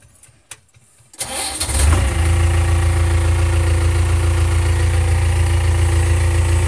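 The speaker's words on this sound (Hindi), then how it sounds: "देखिए मैं सेल चालू कर रहा हूँ, अब चला जाएगा।" A vehicle engine is cranked with its self-starter after a few quiet seconds, catches quickly and settles into a steady, loud, rumbling idle that continues unbroken to the end.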